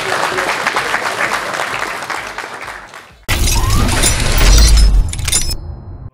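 A crowd applauds at a boxing gala, a dense sustained clatter of clapping that breaks off abruptly and resumes louder with booming low rumble, fading near the end.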